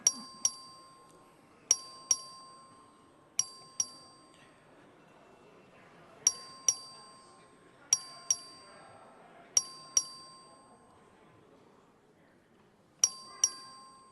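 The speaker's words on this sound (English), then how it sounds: "The clerk will ring the bell." A voting bell in the Texas House chamber rings in short repeated clear dings, mostly in pairs with pauses between, bright and distinct over quiet room murmur.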